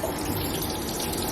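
Tap water gushes steadily for a baby's bath, a close, continuous broadband rush with no pauses and no speech over it.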